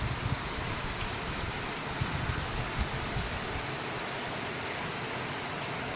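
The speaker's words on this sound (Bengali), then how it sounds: "বৃষ্টির আওয়াজ, সত্যি বলছি বৃষ্টির আওয়াজ শুনতে এত ভালো লাগে।" Steady rain falls outside in the early morning, a continuous dense hiss of drops with no pauses, moderately loud and even throughout, with no voices.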